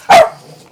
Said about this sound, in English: She's barking at her dad.